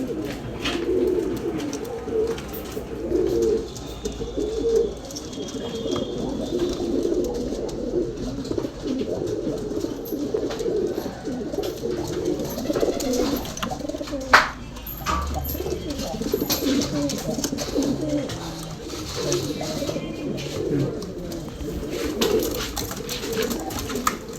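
Several male and female pigeons coo in low, overlapping rounds over steady outdoor background noise, with no talking.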